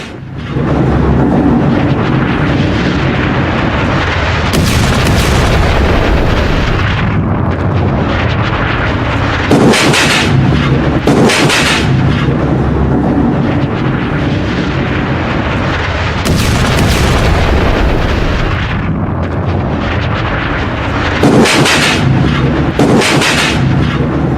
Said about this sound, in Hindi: गांव में एक साथ धमाके हुए